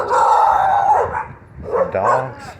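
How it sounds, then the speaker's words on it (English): Dogs outdoors along a road, a drawn-out howling bark followed by a second burst of barking and yips, fairly loud and near, with no talk. "Some dogs."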